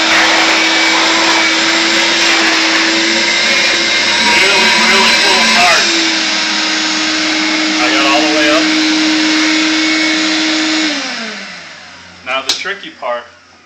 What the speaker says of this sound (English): tricky part is actually vacuuming underneath the entire floor